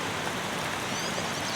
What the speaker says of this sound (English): the rain on the tarp, the big pops of rain coming off the trees,